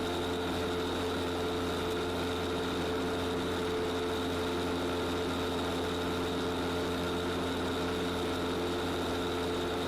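A Zenith light aircraft engine idles steadily at about 1500 RPM, a continuous droning hum with an even tone and no voices.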